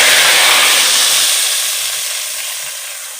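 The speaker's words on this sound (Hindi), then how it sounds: "जा रहा है तड़का" Loud, steady sizzling hiss of spices hitting hot oil for a tadka over dal, strong at first and easing slightly as it settles, with no talking.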